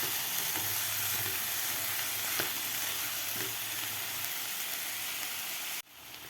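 Mixed vegetables and green peas sauté in ghee in a pan for bajra khichdi, a steady close sizzle with a few stirring clicks, cutting off abruptly near the end; no one speaks.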